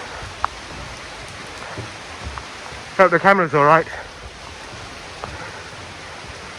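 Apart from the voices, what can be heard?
rain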